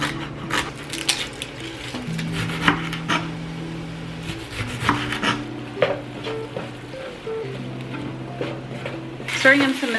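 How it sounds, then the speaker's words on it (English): Minced garlic stirred into softened vegetables in a hot pan: scraping strokes and a soft sizzle, up close and continuous, with music playing underneath. "Stirring in some minced garlic now that the veggies are a little softened."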